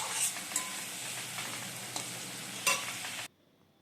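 Onions sautéing with garam masala in a pan give off a steady close sizzle, broken by a few scraping stirs, before stopping abruptly.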